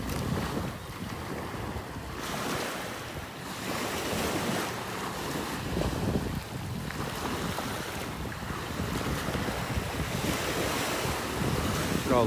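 Ocean waves wash in and recede on a beach at Delnor-Wiggins, with gusty wind buffeting the microphone throughout.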